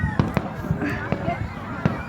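Fireworks exploding outdoors, heard as several sharp pops and bursts at irregular intervals with excited voices over them.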